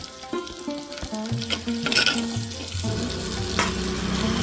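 Ginger and green chili paste hitting hot oil in a pan and sizzling steadily close by, with frying hiss building and some tonal clatter over it, no voices.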